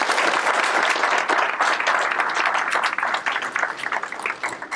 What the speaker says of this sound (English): So one last round of applause for them.